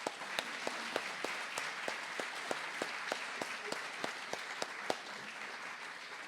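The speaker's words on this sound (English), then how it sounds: "So a big round of applause for Linda and Mark Kozina, who started it." Applause at a coffeehouse's 25th-anniversary music celebration for its founders, a modest, fairly faint patter of clapping from a small audience with distinct individual claps popping out.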